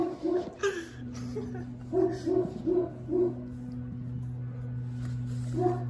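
A big dog barks in a quick series of deep, fairly close barks, followed by a pause and one more bark over a steady low hum.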